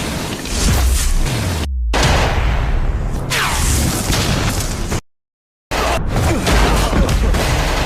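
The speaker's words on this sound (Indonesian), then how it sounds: "Bahkan melemparkan tabung gas untuk meledakkan musuh." A thrown gas cylinder explodes in an action-film fight scene, heard as loud, dense blasts and rumbling booms with crackling debris, broken by a brief cut to silence.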